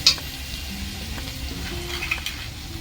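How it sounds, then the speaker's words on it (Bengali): Onions frying in a pan for a country chicken curry, giving a steady close sizzle with a sharp metallic scrape of stirring at the start and faint clinks later, no talk. "আমি পেঁয়াজটা লাল লাল করে একটু ভেজে নেব"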